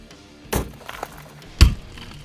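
Two sharp hits from a tactical pen strike a small piece of glass, each a sudden bright crack with a dull thud, spaced about a second apart and heard close against a faint background hum.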